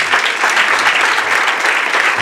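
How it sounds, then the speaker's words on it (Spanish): A church congregation claps loudly at a wedding ceremony, a dense, steady wash of many hands that holds evenly throughout with no voices rising above it. "Gloria a Dios, démosle fuerte palmas a Dios."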